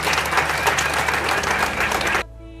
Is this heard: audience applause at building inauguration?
yes